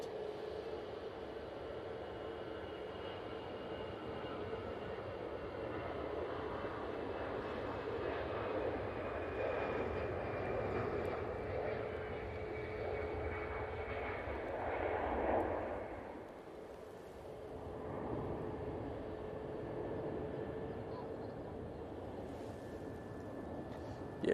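An EasyJet airliner departs from runway 05 left at Manchester Airport, its steady broad jet roar held at a moderate distance for the whole stretch, dipping briefly before settling back into a continuous drone.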